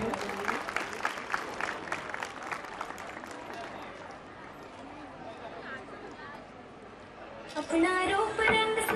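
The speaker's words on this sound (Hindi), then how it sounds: "जोरदार तालियां हो जाए" Audience applause at a Durga Puja stage event, steady clapping filling the hall for several seconds under an announcer's voice, then a louder burst of music and singing near the end.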